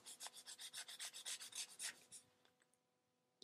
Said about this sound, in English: let's rub it down and see what it looks like